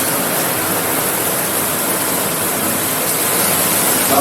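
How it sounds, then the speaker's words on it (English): A Reval Caprice bath shower sprays hard and steady at full pressure, a loud, continuous rush of water with no pauses or voices. "I'm going to turn the shower on, and I'm going to adjust the valve"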